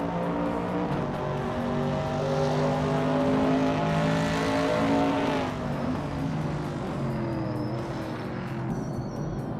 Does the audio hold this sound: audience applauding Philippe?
no